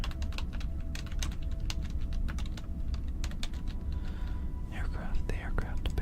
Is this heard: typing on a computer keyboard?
yes